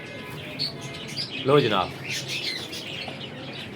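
Pigeons calling nearby, a rising chirp in the middle among softer coos, with someone speaking over the birds and light background noise.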